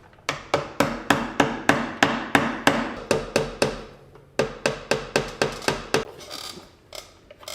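Valve covers sealed with heavy silicone being worked loose on the engine of a 1969 Ford F100: a close, loud run of about twenty sharp metallic hammer-like blows in steady bursts, a short pause midway, then scraping.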